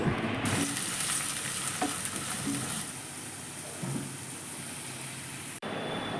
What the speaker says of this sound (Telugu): ఈ ఉల్లిపాయ ముక్కల్ని దోరగా వేయించుకోవాలి